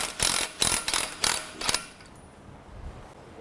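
Close ratchet wrench backing out a 3/4-10 bolt from a top block assembly, four or five quick clicking bursts in an uneven rhythm, then fading to quiet room noise.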